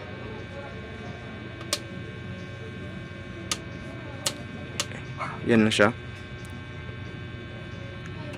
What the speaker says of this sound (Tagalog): Ito yung aking modified sine wave.